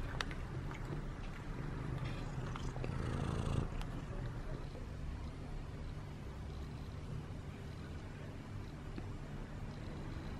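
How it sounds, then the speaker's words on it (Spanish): A steady, low, rumbling purr runs throughout as a cat eats, close and continuous with faint background noise. "Los únicos momentos en que Solar ronronea sola es cuando está comiendo"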